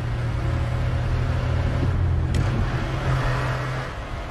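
A car driving, a steady low engine rumble with a faint brief higher tick midway, continuous and fairly loud before easing slightly toward the end.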